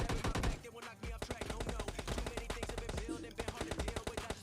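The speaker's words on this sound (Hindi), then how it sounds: "अब मुझे सामने से कुछ फायरिंग की साउंड्स आती हैं।" In the PUBG Mobile Lite battle royale game, rapid automatic gunfire crackles in tight, steady bursts, loud and continuous over a brief stretch, with some background game noise.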